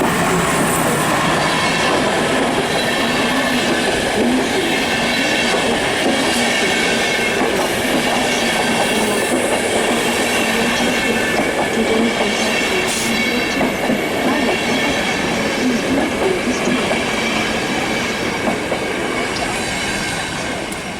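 A passenger train rolls past a German station loudly and steadily for the whole stretch, a continuous rumble with metallic wheel noise and faint squealing, no voices.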